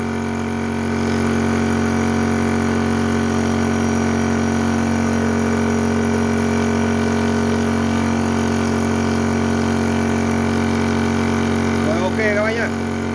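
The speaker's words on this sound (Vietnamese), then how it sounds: "tiếng bơm thì rất chi là êm đúng không các bác?" A 2023 Xin Yong Shi PCP high-pressure air pump runs with a steady, loud mechanical hum and buzz held for the whole stretch, with a brief warble near the end.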